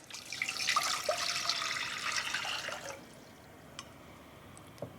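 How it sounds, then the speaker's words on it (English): Water pours steadily into a pot for three cups of sweet tea for kombucha, a continuous splashing stream lasting about three seconds, then stopping, followed by a couple of faint clinks. "I'm going to start with 3 cups of water."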